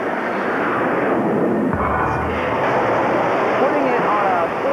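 Jet aircraft landing on an aircraft carrier deck, a loud broad roar with wind and sea noise filling the whole stretch, and a voice speaks over it.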